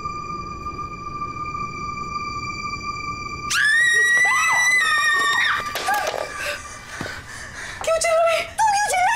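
A woman's loud, sustained scream bursts out in a jungle setting where hunters use noise to draw out tigers, following a long steady electronic-like tone; the shrill cry wavers and breaks over several seconds, close and piercing.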